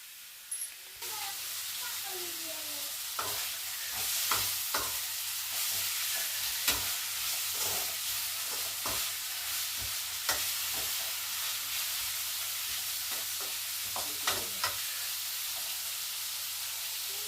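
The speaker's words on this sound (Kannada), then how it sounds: "ನೀಟಾಗಿ ಎಣ್ಣೆಲಿ ಚೆನ್ನಾಗಿ ಹುರ್ಕೋಬೇಕು ಹುರ್ಕೊಳ್ತೀನಿ" Vegetables frying and being stirred in hot oil for a ridge gourd and bitter gourd sambar, a steady close sizzle broken by repeated scrapes and knocks of the spatula against the pan.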